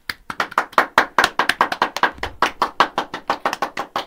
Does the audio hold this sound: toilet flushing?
no